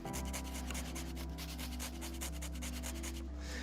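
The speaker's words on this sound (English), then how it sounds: "Okay, so just grating a bit in." Fresh Irish horseradish root grated by hand into a bowl, a steady rasping rub repeating in quick strokes, close and moderately quiet, with a low steady hum beneath.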